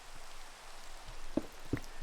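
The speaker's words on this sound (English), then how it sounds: "And the rain does not do any damage to the wool" Soft, steady rain patter falling in the blocky world of Minecraft, a faint diffuse hiss with a couple of brief louder drop-like taps, quiet and without any voices.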